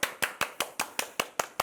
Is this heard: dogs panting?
no